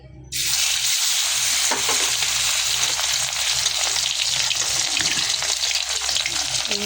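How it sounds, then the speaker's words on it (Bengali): Fish pieces slide into hot oil for a fish curry, bursting into a loud, continuous sizzle right after a short quiet moment at the start, with stirring crackles throughout. "এই যে এখন হচ্ছে তেল গরম হয়ে গেছে, মাছ দিয়ে দিই।"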